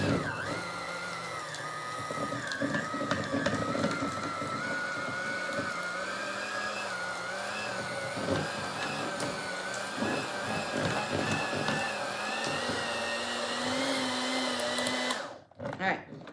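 An electric hand mixer with beaters whirs steadily, mixing cheeseball ingredients in a bowl. A continuous motor drone with shifting pitch runs loud and close, then stops abruptly near the end.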